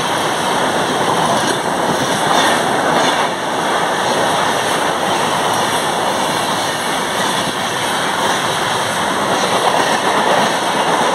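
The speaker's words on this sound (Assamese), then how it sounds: "অকমান পিছতে আমাৰ ট্ৰেইনখন আহি আছে" A passenger train runs near Kokrajhar station, a loud, continuous rumble and roar of wheels and engine that holds steady throughout with no voices.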